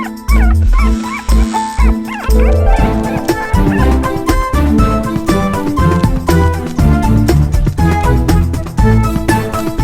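Several dogs bark, yip and whimper in a domestic scene, loud, close and overlapping in uneven bursts, mixed with film background music throughout.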